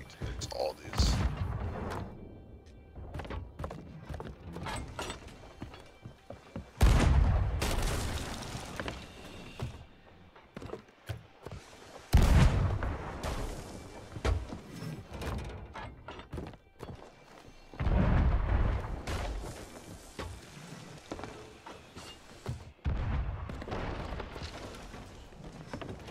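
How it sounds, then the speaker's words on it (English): Ship cannons fire in the Sea of Thieves video game, heavy booming shots recurring in bursts about every five seconds, with thuds and clatter between them and voices talking throughout. "How many fucking cannons does it take to sink a robo?"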